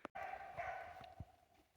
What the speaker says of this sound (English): There are coyotes barking at us.